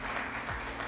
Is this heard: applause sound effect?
yes